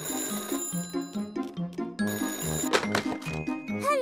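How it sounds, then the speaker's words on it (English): A phone rings in the My Friend Peppa Pig video game, its bright repeated chiming tone sounding over a cheerful musical backing in a steady rhythmic pattern. "phone is ringing."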